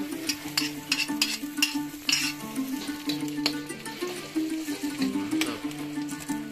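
Shallots fry in a pan, a close sizzle under repeated scraping and stirring strokes with a spoon, clattering against the metal in a busy, uneven rhythm.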